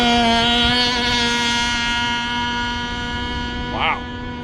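A remote control speed boat runs on water with a steady, high-pitched motor whine that holds throughout, loud and close, with people talking over it.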